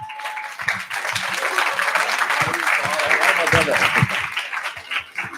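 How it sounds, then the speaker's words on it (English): Audience applause at a talk event on artificial intelligence, a steady dense wash of clapping lasting several seconds with some voices and low chatter mixed in. "Hey, big applause to the man himself, Chris."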